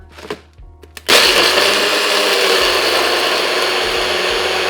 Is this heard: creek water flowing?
no